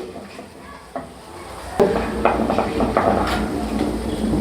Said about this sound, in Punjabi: ਹੁਣ ਅਸੀਂ ਇੱਕ ਚਮਚ ਜੀਰਾ ਪਾਵਾਂਗੇ ਜੀਰੇ ਨੂੰ ਅੱਛੀ ਤਰ੍ਹਾਂ ਭੁੰਨਦੇ ਹੋਏ